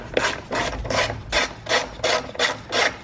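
A ratchet wrench with a 10 mm socket loosens the J-hook nuts on the battery hold-down of a 2014-2018 Mazda 3, giving close, rhythmic rasping clicks in about seven quick bursts with short pauses between them.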